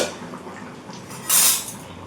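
Lid lifted off a cooking pot simmering fish roe curry with potato and pointed gourd, a single brief metallic scrape and hiss of escaping steam rising over a quiet kitchen background.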